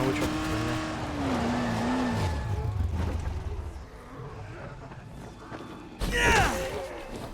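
In the video game Dying Light, a car engine drones and revs while the vehicle drives. Tires squeal briefly and a sharp crash or skid lands near the end, mostly without talk.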